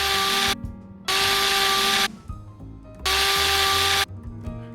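A drill assembles weapon parts in Contractors Exfil Zone, with two loud, steady whirring bursts of about a second each, separated by quieter clicks and mechanical clatter.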